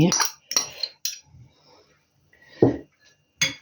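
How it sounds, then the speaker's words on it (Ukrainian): A fork beats eggs in a bowl, giving a few quick, close clinking bursts against the bowl, separated by short pauses and quiet gaps. "От перемішаю яйця, зараз вилочку трошечки, отак, щоб вони тут розійшлися"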